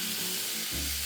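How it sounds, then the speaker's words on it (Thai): Marinated red pork sizzles loudly and steadily in a hot pan, a dense continuous frying hiss that fills the whole moment close up. "ตอนนี้นะคะกระทะเราร้อนแล้ว เราก็เอาหมูแดงที่เราหมักไว้ลงเลยค่ะ"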